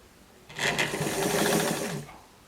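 A sewing machine stitches a stretched, lightly gathered dress seam in one continuous close burst of rapid whirring lasting about a second and a half, with no talk.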